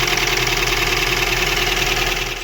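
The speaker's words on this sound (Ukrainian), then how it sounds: "Моторчик працює хорошо" A Daewoo Lanos 1.5 engine idles steadily after a head gasket replacement, with a constant low hum and faint mechanical ticking, close by, with no voices.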